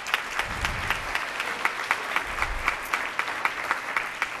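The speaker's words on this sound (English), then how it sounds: "please give them a round of applause" A group on stage at an awards event receives a round of applause, dense clapping from the audience with distinct sharp claps standing out, steady throughout.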